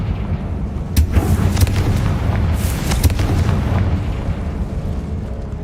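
A Confringo fire spell bursts in Hogwarts Legacy, loud rumbling booms with a couple of sharp blasts near the start and middle over a continuous low roar, no voices.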